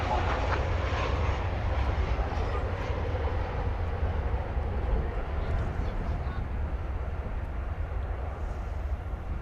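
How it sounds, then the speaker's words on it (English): A 2006-built airliner bound for Maui roars during takeoff at DFW Airport, a loud, continuous broadband jet rumble that holds steady throughout. "Poised for takeoff to Maui."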